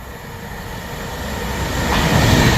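A loud, steady rumble of a passenger train rushing past nearby on the West Coast Main Line at Rugby, swelling steadily louder as it approaches, with no voices.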